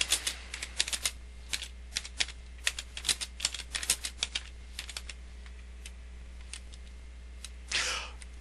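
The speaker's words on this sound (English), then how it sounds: "As you may have heard, I hit the space bar quite a few times there." Rapid clicking of computer keyboard keys, mostly brisk irregular bursts with spaced space-bar presses, close and fairly quiet over a steady low hum, ending with a brief rustle.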